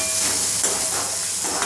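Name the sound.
garlic, onion and chopped coriander sautéing in oil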